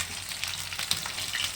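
Pakora pieces for chilli chicken deep-frying in oil over a low flame, giving a steady close sizzle with soft crackling pops and no voices.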